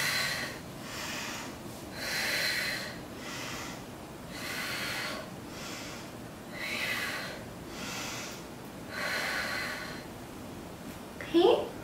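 Slow, deep yoga breaths come in long, even cycles, each inhale and exhale a soft airy rush about two seconds long, close and repeated about six times, ending with a brief louder sniff.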